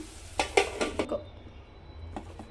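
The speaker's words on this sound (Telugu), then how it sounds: "ఒక 2 మినిట్స్ అయితే నేను మూత పెట్టుకుంటున్నాను" Metal lid set onto a frying pan of egg fry cooking with chilli powder: a few quick clattering clinks and taps of metal on metal, close and sharp, then quiet with brief rattles at the end.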